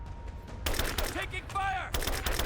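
Bursts of rapid gunfire from a firefight in Rise of the Tomb Raider, a dense volley after a quieter opening, then more shots after a brief lull, with a voice shouting over the combat.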